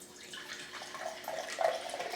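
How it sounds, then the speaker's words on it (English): Carbonated bubbly water pours into a glass for a raisin experiment, a soft, close splashing trickle with faint fizzing that swells slightly toward the end, heard alone without talk. "We're going to pour some bubbly water into one."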